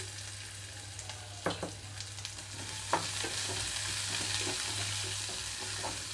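Steady oil sizzle of onions frying for tempering in a pan, with occasional clinks and scrapes of a spoon stirring; no voices.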